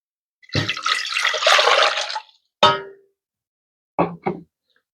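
Boiling water pours into a pot in a loud rushing burst for a couple of seconds, followed by a metallic clang and two quick knocks of a pot or cup.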